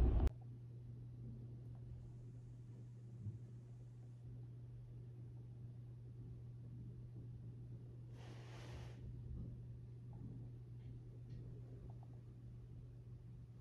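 Inside a car driving through heavy rain, a steady low engine drone runs under a constant broadband hiss, with a brief brighter wash of noise partway through; no one speaks.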